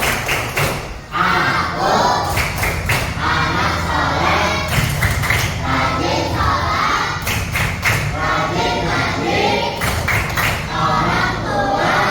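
Schoolchildren in an Indonesian Islamic education classroom do a rhythmic clapping chant. Grouped bursts of loud hand claps alternate with chanted voices across the whole stretch, close and lively.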